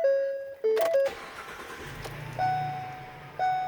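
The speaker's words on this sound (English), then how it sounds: "When I go to start the van up, starts up first time every time." A 2019 Ford Transit 350 XLT wheelchair van with about 1,000 miles starts up: a few dashboard chimes, a short cranking burst, then a steady low idle rumble close by, with more chimes over it.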